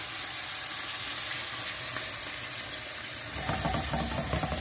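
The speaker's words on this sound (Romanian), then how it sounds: "Deci 4 minute i-am gătit creveții așa, prăjiți, pe o parte și pe alta" Shrimp sizzling in a frying pan with white wine added, a steady broadband hiss with crackling that grows louder and busier toward the end, close and without talk.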